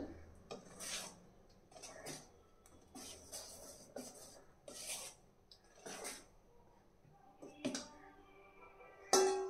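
Dosa batter is stirred in a small bowl, giving repeated soft scraping swishes of a spoon against the vessel in uneven bursts, fairly quiet, ending with a sharper metallic clink.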